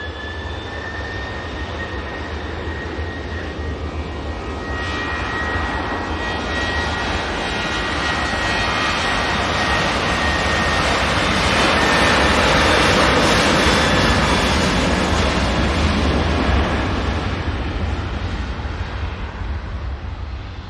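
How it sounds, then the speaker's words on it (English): A Ryanair jet airliner on its takeoff roll at Manchester Airport, bound for Verona: a broad, loud engine roar that swells steadily toward the middle and holds, with a thin whine riding above it and no voices. "Ryanair. Now on the roll, going off to Verona."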